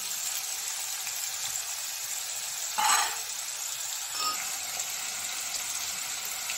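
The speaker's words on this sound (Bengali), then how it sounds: "আলুগুলো ভাজা হতে হতে আমি একটা পেস্ট তৈরি করে নিচ্ছি।" Potatoes with dried red chillies sizzle steadily in hot oil, a constant soft frying hiss with a brief louder crackle burst midway, heard alone without voices.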